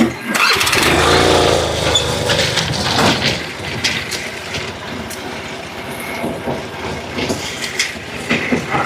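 Engine of a homemade hydraulic tipper vehicle cranks and fires with a loud burst, then settles into a steady, rough running rumble close by, with no talking.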